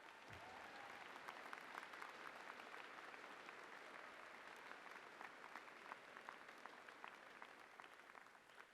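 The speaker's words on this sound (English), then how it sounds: "Applause." Applause fills a university convocation ceremony for spring graduates, dense and sustained, heard from a distance across a large hall without any break.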